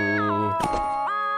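A creature call from a My Singing Monsters fan game, a short whiny, meow-like vocal tone that bends down in pitch, breaks into a raspy burst, then rises again, heard alone.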